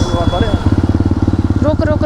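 A Honda CBR superbike engine runs with a steady, rapid pulsing thrum, close and loud, while a voice talks over it.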